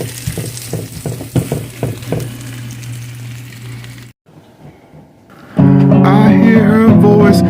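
Eggs with onion frying in a pan, with a steady sizzle and occasional stirring clatter near the mic, briefly dropping quiet before music starts loudly over it.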